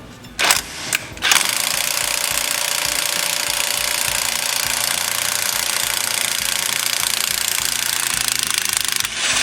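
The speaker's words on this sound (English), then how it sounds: "Old battery powered Milwaukee." Battery-powered Milwaukee impact wrench loosening a 5/8 bolt on a clutch, a couple of short bursts, then continuous loud rapid hammering for several seconds, close by.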